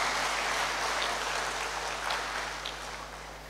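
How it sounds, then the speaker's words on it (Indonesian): Sustained audience applause fills a hall after a professor's academic address, dense steady clapping that holds loud before easing slightly toward the end. "Tepuk tangan untuk Ibu Prof. Arni."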